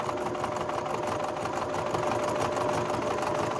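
A sewing machine runs steadily while stitching embroidery, its needle chattering in a fast, even mechanical rhythm that stays loud and close throughout, with no talking.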